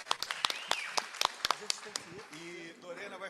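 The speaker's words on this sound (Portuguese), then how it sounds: "uma salva de palmas para a Ana Yara" Scattered handclaps from an audience in applause for Ana Yara, sharp and fairly close, with voices talking over and after the clapping as it fades.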